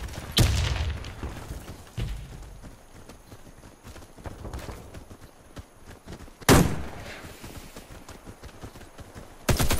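A grenade explodes in the shooter game Warface, followed by scattered gunfire and a second sharp blast, with bursts of loud impacts separated by quieter stretches.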